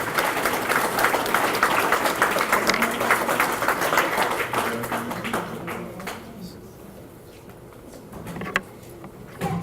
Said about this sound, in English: Let's give Destiny a round of applause, please.